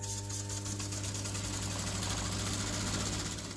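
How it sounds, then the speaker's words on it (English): A small air pump drives the gear reduction of a steampunk strandbeest model, giving a steady mechanical hum and rattle with a low buzzing drone. It runs continuously throughout with no talk. "I have connected it up to an air pump."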